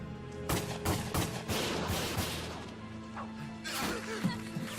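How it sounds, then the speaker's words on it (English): Sharp gunshots crack repeatedly over a steady rumbling background in a Valkyria Chronicles battle, with irregular bursts of shots throughout. "Gunfire!"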